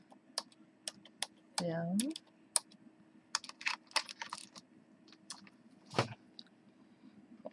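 Scattered taps and clicks of typing on a computer keyboard, in irregular short bursts, with a brief spoken word near the start and soft background noise.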